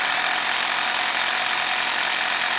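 A Japanese power drill runs in hammer mode, up close and loud, as a continuous harsh, buzzing whir with no pauses or talk.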